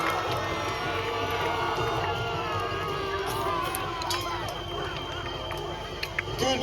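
Spectators at a 2025 Battle of Hastings reenactment cheer and shout continuously at a distance, a diffuse crowd roar with scattered whoops.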